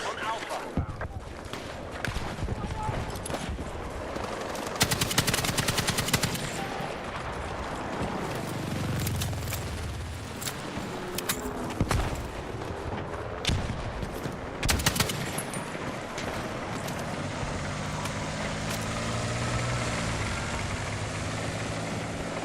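Sniper fire rings out in a shooter video game: a string of sharp, loud gunshots comes at irregular intervals over a rumbling game soundscape.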